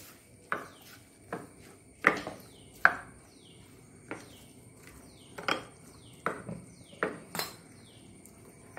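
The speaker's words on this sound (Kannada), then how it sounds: "ಇಷ್ಟನ್ನು ಚೆನ್ನಾಗಿ ಈಗ ಮಿಕ್ಸ್ ಮಾಡ್ಕೊಳ್ಳೋಣ" Drumstick leaf paddu batter mixed by hand in a bowl, with a series of separate soft knocks and scrapes at an irregular pace, close and fairly quiet, with no talking.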